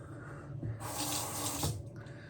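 Water runs from a tap into a sink in a short steady gush lasting about a second, close and fairly quiet, with no voices.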